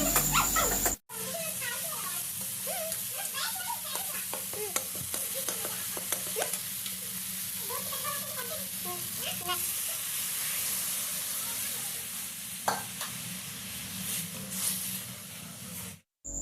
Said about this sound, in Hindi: दाल को अच्छे से मसाले वगैरह डाल के फ्राई कर दूंगी